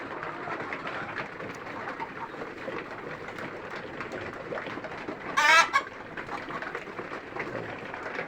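Chickens cluck steadily on a poultry farm with a tin-roofed shed and bamboo perches, a dense, continuous flock chatter with one louder, sharper call rising briefly near the middle.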